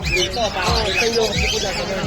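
Many caged pet birds at a bird sale in the Bocaue pet market chirp and tweet continuously, with repeated thumping handling noises nearby.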